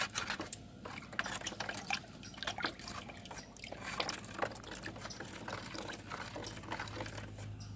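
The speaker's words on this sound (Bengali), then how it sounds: "আমি এই গুড়টিকে ভালো করে কুলিয়ে গুলিয়ে নিচ্ছি যাতে পুরোপুরিভাবে এই গুটি এতে জলের সঙ্গে মিশে যায়" Jaggery being stirred into water in a container to dissolve it for a waste decomposer solution: a steady run of light clinks, swishes and small sloshes, close and continuous, with no voices.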